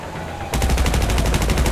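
Rapid automatic gunfire from the video game GTA Online erupts after a brief quieter moment, then continues as a dense, loud, unbroken stream of shots to the end.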